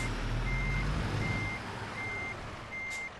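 A truck reverses in the American Truck Simulator video game, sending out a steady run of evenly spaced reversing beeps over a loud, continuous engine rumble.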